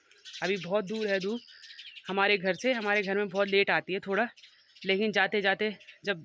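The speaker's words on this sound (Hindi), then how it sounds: "पीछे आप सुन सकते हैं चिड़ियों की आवाज़ आ रही है" Birds chirp faintly in the background on a morning in Uttarakhand, their calls largely buried beneath a person talking steadily in the foreground.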